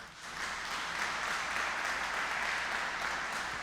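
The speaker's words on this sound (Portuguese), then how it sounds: "Dê uma salva de palmas para o Senhor" Sustained applause from a church congregation, a continuous wash of many hands clapping that stays even and moderately loud throughout, with no voices breaking through.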